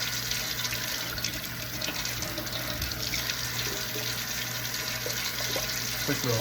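Tap water runs steadily into a crockpot being rinsed out at a kitchen sink, a continuous close splashing stream.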